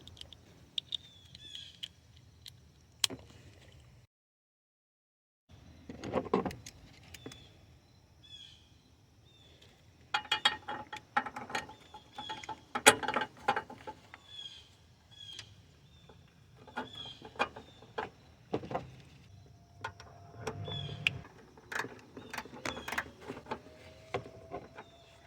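Ratchet with a wobble adapter working the 14mm starter bolts on a Toyota RAV4, sparse close clicks and metallic ticks in short bursts with quiet gaps.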